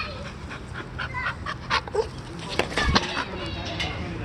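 A dog gives short yips and whimpers over a steady background hiss during an outdoor game of tag. The yips come in brief bursts that grow busier toward the middle.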